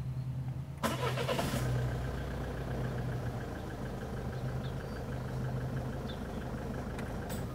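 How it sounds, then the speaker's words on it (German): A car engine cranks and catches with a sharp burst of starter noise, then settles into a steady, fairly close idle hum that runs evenly to the end, heard during a dog's car-familiarization training session. "jetzt ist der Zeitpunkt gekommen, wo du bitte kurz den Motor startest"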